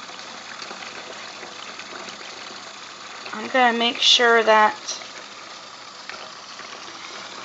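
Water from a kitchen tap filling a burnt-out candle jar with soap in the sink, a constant hissing stream throughout, with someone talking briefly over it partway through.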